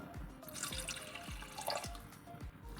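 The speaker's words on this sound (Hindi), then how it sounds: "और साथ ही हम इसमें डाल देंगे 80 ml पानी।" Water is poured into a gulab jamun dough mixture of spices in a bowl, with several close drips and splashes in quick succession and no talking.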